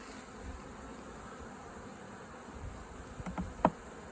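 Buzzing from a honey bee swarm being hived hums softly and steadily, then a few louder, sharper passes come near the end as individual bees fly close.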